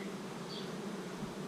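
Honey bees swarm around an open hive, a steady dense buzzing drone that fills the scene, close and even, with no voices.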